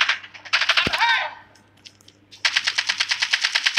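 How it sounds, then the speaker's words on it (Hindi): Rapid automatic gunfire in the video game Call of Duty, MW11 weapon: a sustained burst, then a short lull with a brief swooping tone, then another long, steady stream of shots, loud and close. "ऑन है, कंटिन्यूस गोली चला रहा है,"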